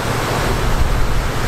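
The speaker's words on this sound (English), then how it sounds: "Solid longboard waves." Waves break steadily on Lake Superior in sub-zero winter cold, a dense, continuous roar of surf close by with wind rumbling against the microphone and no voices.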